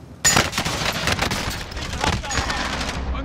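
Rapid, loud gunfire bursts crackle almost nonstop in a battle royale-style shooter video game, with heavy automatic shots layered close together and a few sharper cracks throughout.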